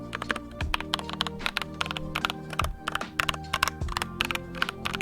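Rapid, uneven keystrokes on a newly built custom keyboard, close and clear, with steady tonal sound underneath and no speech.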